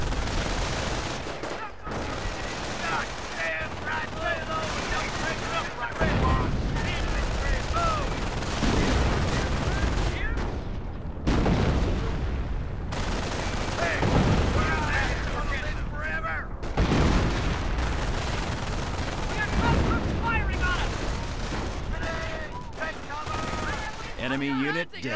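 Battle gunfire in the Company of Heroes video game: dense, continuous fusillades of rifle and machine-gun fire with booming explosions, loud and close throughout, while game voices call out over the combat.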